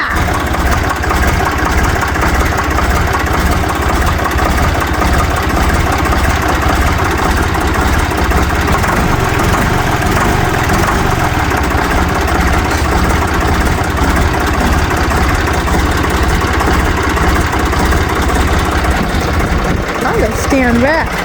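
A Ditch Witch trencher's engine idles steadily and loud throughout, a continuous low mechanical rumble with no break, while people talk over it now and then.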